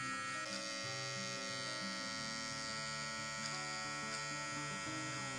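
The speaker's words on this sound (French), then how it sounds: "maintenant j'enlève le sabot et c'est parti pour les contours de la barbe" Kensen S15 electric trimmer with its guard removed, running steadily while it outlines the contours of a beard; a constant close buzzing drone with no speech.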